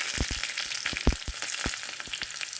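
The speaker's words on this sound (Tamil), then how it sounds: "இப்போது காஞ்ச மிளகாய் போட்டுக்கலாம்." Dried red chillies dropped into hot oil with mustard seeds crackle and spit in sharp, irregular pops over a soft steady sizzle, close and fairly quiet, with no talking.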